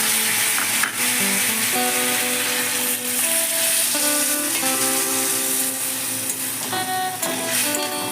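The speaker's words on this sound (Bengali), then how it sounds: "আলুটা ভাজা হয়ে গেছে, আমি জল দিয়ে দিলাম।" Water poured over fried potatoes in a hot pan set off a loud, steady sizzle that runs unbroken and close, with faint stirring clinks now and then and no talking.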